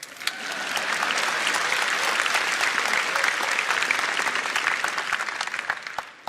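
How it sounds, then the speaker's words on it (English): Steady, dense audience applause fills a Samsung Galaxy Note 9 launch event hall, holding at an even level for about six seconds before tapering off. "You can clap it."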